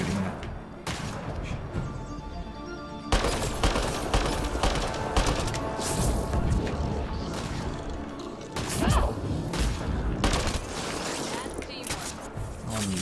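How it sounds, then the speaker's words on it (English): Gunfire and impacts in the video game Mass Effect Andromeda, a dense stretch of sharp shots and crashes with mechanical clatter, loud and close throughout. "What are you shooting at?"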